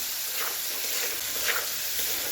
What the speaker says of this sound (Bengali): আগে থেকে কেটে রাখা টমেটো তারপর ভালো করে মিশিয়ে কষিয়ে নেবো